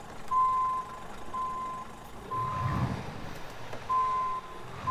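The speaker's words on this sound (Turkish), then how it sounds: "Geri vitesi duymuş olduğunuz gibi Erdal amcanın bayağı bir güzel çıkıyor." A truck in Euro Truck Simulator 2 sounds its reversing alarm, steady evenly spaced beeps repeating over a low engine hum, with a brief rumbling surge midway; no talk.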